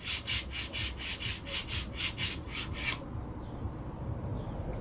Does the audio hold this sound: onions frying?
no